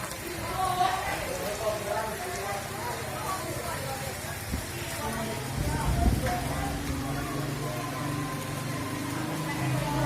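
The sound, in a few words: heavy rain falling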